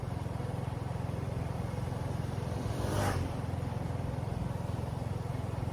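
Motorcycle engine running steadily while riding along a rural road lined with palm and date trees, a continuous low drone with wind rumble and a brief swell near the middle.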